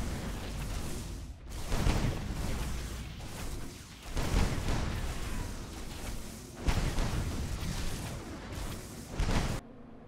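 Long-range artillery barrage from the StormKeep ACM's artillery mode in a video game: several heavy booming blasts with whooshing bursts, repeated every couple of seconds over a dense, loud rumbling background with no talk.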